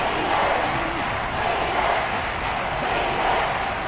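Arrowhead stadium crowd noise in a Madden football video game, a dense, steady roar of many voices continuing without break at fairly loud level.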